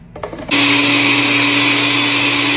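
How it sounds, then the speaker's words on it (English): A blender whirs loudly and steadily after a brief start-up, pureeing vinegar, fresh lime juice and a spicy pepper for Haitian pikliz seasoning, with a constant high motor whine throughout. "Pull the top off into the blender."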